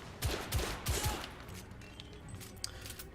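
Rapid bursts of gunfire from the video game The Order: 1886, a quick cluster of shots up front, then a quieter stretch with scattered distant cracks over a low hum.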